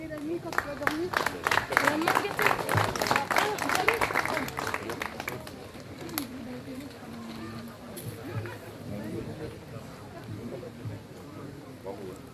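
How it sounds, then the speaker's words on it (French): Applause at a koi show awards ceremony in France, as a short burst of clapping fills the first five seconds and then fades into murmuring crowd noise and scattered chatter in a large room. "Applaudissez-les s'il vous plaît."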